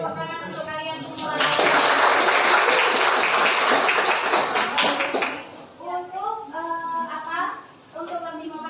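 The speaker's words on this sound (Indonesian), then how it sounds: "Terima kasih semuanya, tepuk tangan untuk kalian semua" A class of students claps in applause after a lesson, a dense burst of many hands lasting several seconds, then fading as voices talk over the tail end.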